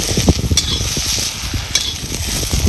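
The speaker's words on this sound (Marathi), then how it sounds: "आता चांगले डाग तर ह्या मिरच्या मी भाजून घेते" Green chillies roast and sizzle in a pan for thecha, with steady frying crackle and intermittent scraping stir strokes, close and fairly loud, no talking.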